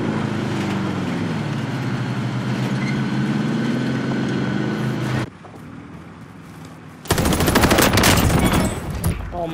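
Bursts of MP40 submachine gunfire in Call of Duty: Warzone Pacific, a loud rapid volley after a quieter stretch, with vehicle rumble and game noise running underneath.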